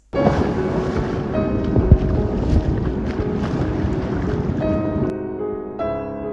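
Loud, constant rush of churning water and wind roars throughout as big waves hit small Lego boats, with a sharp splash near the end.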